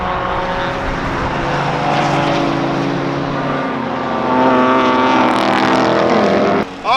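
Toyota GR Corolla and race cars lapping a track at Hyperfest 2024, a steady loud engine drone with shifting tones that rises slightly as the car accelerates, heard close from inside or near the car.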